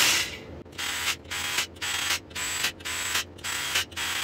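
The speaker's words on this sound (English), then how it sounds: "we're just going to use this drill to run these down the rest of the way" A power drill runs main studs down on a forged Nissan VQ37VHR engine block, drawing the lower block onto the upper during crankshaft installation: about seven close, steady whirring bursts in a regular on-off rhythm with short gaps between, and no talking.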